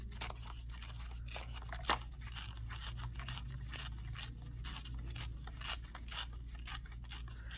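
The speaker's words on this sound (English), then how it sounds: "I'm going to turn the light side up, and I'm going to tear that side" Orange cardstock paper torn by hand, a steady run of dry ripping and rasping strokes up close with no talk.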